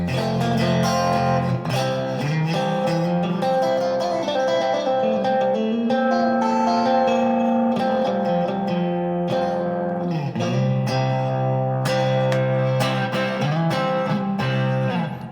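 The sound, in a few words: Fender Player II Stratocaster with distortion, middle pickup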